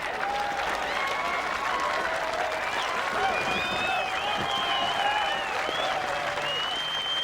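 Crowd applauding a strongman lift at the World's Strongest Man contest, a dense, continuous roar of clapping and cheering throughout, with whistles rising above it.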